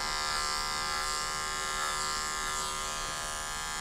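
Electric dog clippers fitted with a snap-on comb buzz steadily while grooming a Shih Tzu's face for a short summer haircut, a close, even motor hum throughout with no talking.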